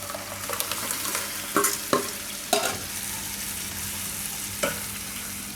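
Tomato raita and cashew paste are stirred together in a pan, with a steady sizzling bed and a few sharp scraping clacks of the spoon against the pan at irregular intervals, close and with no talk.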